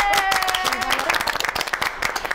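A studio audience on a Romanian talk show claps loudly in a burst of applause that thins into scattered claps, with a voice rising briefly over it at the start.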